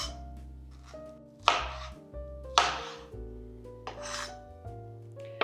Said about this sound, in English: now I'm just going to cut them into about 1 inch wide pieces